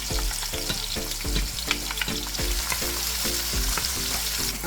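Green onion frying in a pan, with a bright, dense sizzle running throughout. A regular low rhythmic thumping repeats about every half second beneath it, and no one speaks.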